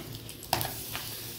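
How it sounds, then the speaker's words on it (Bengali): A paratha fries in a pan for a Sunday breakfast, giving a soft, steady sizzle with a short scrape or clink partway through, faint and close with no voices. "এই যে পরোটা ভাজা হচ্ছে।"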